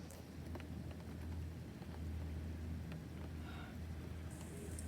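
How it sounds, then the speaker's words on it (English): Heavy rain pours down under dark clouds in a continuous, even hiss with a low rumble beneath, steady and dense from start to finish with no voices. "It's really coming down, the rain and the clouds are really dark"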